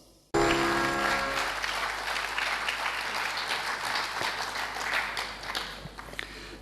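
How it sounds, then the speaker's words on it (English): Big round of audience applause breaks out abruptly and holds steady, dense and loud, welcoming a speaker at a spiritual lecture gathering, tapering slightly near the end. "please welcome Swami Mangalanandji with a big applause"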